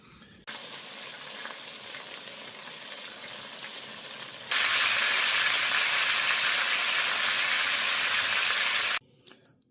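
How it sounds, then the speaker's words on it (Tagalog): Tuna frying in oil in a pan for ginataang tuna, a continuous close sizzle that starts suddenly and then jumps louder and brighter midway, holding steady before cutting off near the end. "tapos na po natin iprito yung tuna natin"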